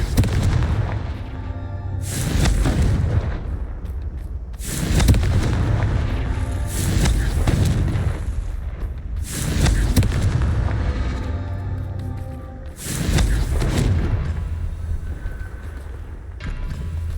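Confringo spell blasts from the Hogwarts Legacy video game, a series of loud, booming explosions repeating every two to three seconds, each with a sharp onset and a rumbling tail.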